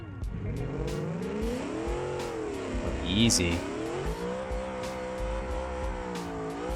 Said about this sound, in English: So I'm going to do a little burnout here.